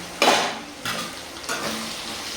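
A spoon stirs curry with drumstick, brinjal, dried fish, mango and field beans in a pan, giving three soft scraping strokes over a faint low sizzle, quiet and close, with no voices.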